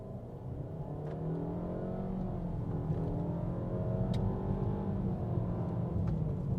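A 2021 Nissan Rogue launches hard from a standstill, its engine drone building in pitch as it pulls away, heard from inside the cabin with a steady low rumble and a couple of faint clicks.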